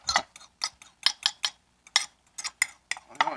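Dog treat ingredients, including eggs, dumped into a bowl and stirred, giving a string of close, sharp clinks and scrapes in an uneven rhythm, with no talking.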